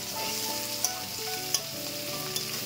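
Onions frying in a pan for a bamboo shoot and meat dish, a steady soft sizzle with a faint tonal hum, broken by three quick metallic taps of stirring.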